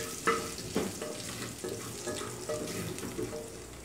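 Garlic browning in a little fat in a frying pan, a steady close sizzle broken by a few sharp scrapes of stirring, with no voices.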